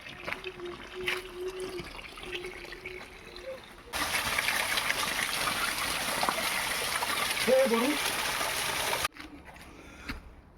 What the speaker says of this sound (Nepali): सानो धाराहरू पनि छ है।